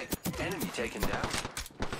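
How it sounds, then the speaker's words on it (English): Enemy gunfire in a ranked multiplayer shooter video game, heard as rapid bursts of sharp shots under a dense mix of game effects and a voice talking. "The enemies are shooting at me."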